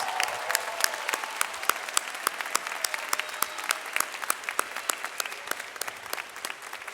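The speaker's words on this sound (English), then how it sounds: "Let's give them one more round of applause to all the families and friends." Applause from a commencement audience honoring families and friends, a dense, even patter of many hands with scattered louder claps, sustained throughout and easing slightly toward the close.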